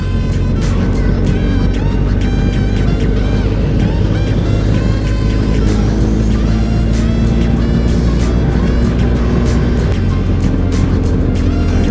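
A BMW motorcycle climbs a twisty mountain road to Jabal Jais in the UAE at night, its engine and the rushing wind forming a loud, constant roar up close throughout.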